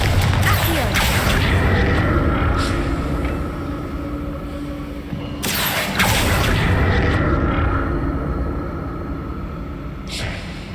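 Confringo fire spells explode in Hogwarts Legacy, two heavy booming blasts several seconds apart rolling over a constant loud rumble.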